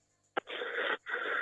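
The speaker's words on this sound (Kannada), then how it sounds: "ಏನ ಉಸಿರು ಹಂಗಾಡ್ತಿದ್ಯಾ?" An animated cartoon character breathes with a wheeze: a sharp catch, then two long, hoarse, raspy exhalations with a short pause between them, close and clear in an otherwise quiet scene.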